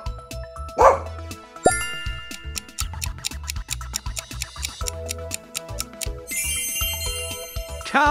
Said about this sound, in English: You got it, it's a dog.